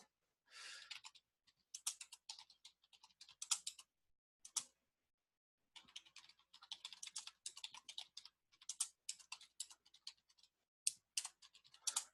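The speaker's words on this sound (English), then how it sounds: "Here, let me type this in." Rapid bursts of keystrokes on a computer keyboard, close and fairly quiet, in irregular flurries with a short pause midway and no talking.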